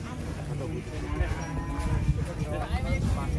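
Large cattle at an APPSI livestock contest, giving low moos amid a noisy crowd and background bustle, with people talking nearby.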